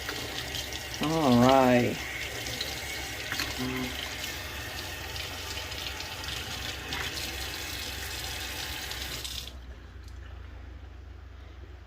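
Tap water runs steadily over hands being rinsed at a kitchen sink during a catfish fry. A close, continuous splashing wash sounds under a brief spoken remark, then stops abruptly, leaving a quieter room.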